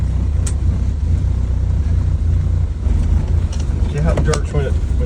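A 1974 Ford Mustang rumbles steadily while being driven, its engine note low and continuous with a brief lift in revs near the end and faint chirps over the top.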